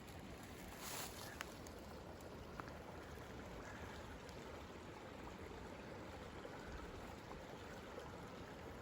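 Creek water in the Beaver Run watershed of the Allegheny National Forest, a soft continuous rush and trickle, faint and steady throughout with no talking.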